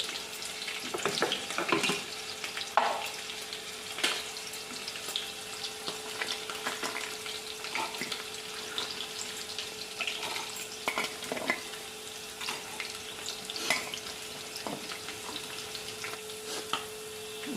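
Masala paste of dried chilies, onion, ginger, garlic and whole spices frying in a pan, a steady crackling sizzle with frequent stirring scrapes and light clinks throughout.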